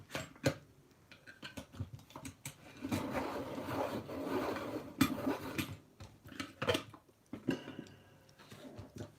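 Pencil sharpening: irregular rasping, rubbing scrapes of wood in short bursts and longer stretches, fairly close and moderately quiet, with a few sharp knocks between strokes.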